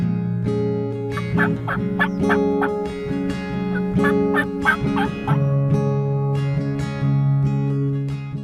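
A wild turkey gobbler calls loudly at close range, giving a run of rapid rattling gobbles and honking notes that give way to a long sustained tone near the end.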